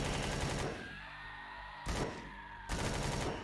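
Gunfire inside an abandoned mine in Empyrion Galactic Survival: three loud bursts of shots a second or so apart, with a humming, hissy ambience between them.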